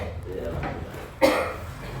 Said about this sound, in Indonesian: Kurang sakit tuh batuknya.